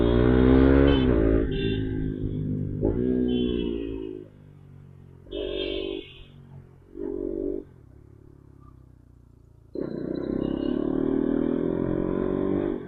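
A faulty motorcycle with ABS warning lights on runs on a road, its engine note rising and dropping in bursts with gaps of near silence and a final steady running stretch, fairly close.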